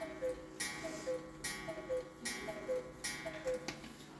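A cuckoo clock in a German clock shop ticks steadily, each tick a sharp click in an even repeating rhythm, heard up close with no talk over it.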